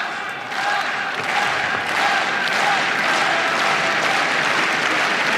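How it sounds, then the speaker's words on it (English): A pocket of Italian supporters in the crowd at the French Open women's tennis final cheers and applauds, a dense, steady wash of clapping and crowd noise throughout, fairly loud and slightly distant. "That pocket of Italian supporters making themselves heard, trying to get the rest of the crowd going"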